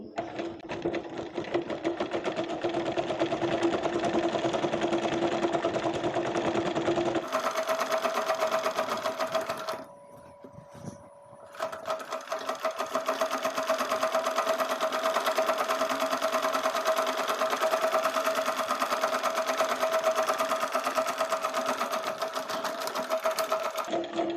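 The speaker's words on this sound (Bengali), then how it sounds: "আমি এখানে ডাবল সেলাই দিয়ে নিচ্ছি।" Sewing machine double-stitching baby pajamas, running in a steady fast hum with a rapid needle rhythm, briefly stopping near the middle before starting again and carrying on loud and close.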